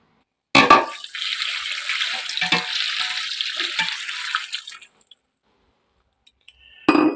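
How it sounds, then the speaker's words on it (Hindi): Water pours into a pot of beef paya for a Pakistani family recipe, a splashing, gurgling stream lasting about four seconds before stopping, followed by quiet and a brief clatter at the end. "अब इसमें हम पानी शामिल कर देंगे।"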